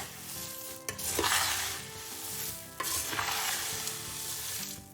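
Bombay mixture snack with curry leaves is stirred in a pan, two bursts of crisp scraping and rustling over a soft sizzle, close and fairly quiet, with no talk.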